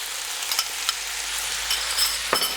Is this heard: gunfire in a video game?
no